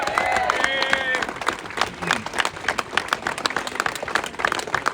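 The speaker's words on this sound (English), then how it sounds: "Give them a big round of applause" A rally audience applauds veterans, beginning with cheers and a whoop over the clapping, then settling into scattered, irregular claps that come and go with murmuring voices.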